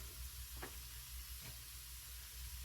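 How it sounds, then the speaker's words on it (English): Ground beef browning in a pan, a faint, steady sizzle with a few soft scrapes from stirring, no voices. "You just want to brown the beef."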